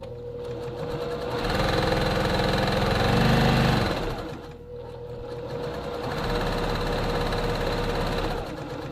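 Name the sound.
sewing machine stitching a dart on fabric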